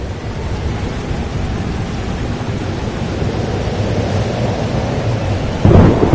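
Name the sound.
thunderstorm in video game Life is Strange: Double Exposure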